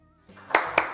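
Applause at a live show begins with two sharp, close hand claps in quick succession after a soft lead-in.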